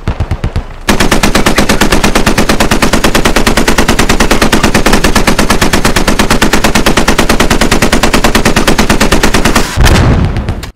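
Sustained automatic machine gun fire in the military shooter Squad, a loud, rapid unbroken burst lasting most of the stretch, close and dominant, with a few shots before and after.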